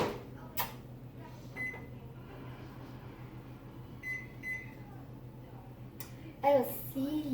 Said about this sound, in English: So, how long do we put it in the microwave?